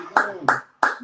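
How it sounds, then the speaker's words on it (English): A person claps three times in a quick, evenly spaced sequence, close and crisp, with a little voice between the claps. "I know how to clap for me too."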